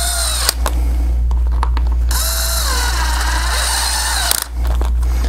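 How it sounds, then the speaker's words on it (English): Power tool whirring in bursts while tightening the belt loop adapter hardware on a Safariland mid-ride holster, loud and close, with short pauses between runs. "Now let's torque it down."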